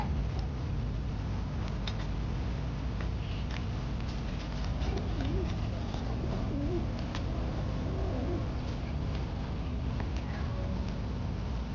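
Pigeons coo softly at a home under a steady broadband background hum, with low, repeated cooing calls scattered through the stretch, fairly faint.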